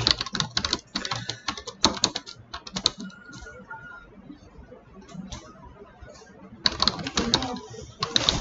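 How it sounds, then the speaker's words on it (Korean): Bursts of rapid keyboard typing on a computer keyboard, with clusters of close clicking separated by a quieter stretch in the middle, and a final burst at the end. "왜 이렇게 타자가 안 치지냐?"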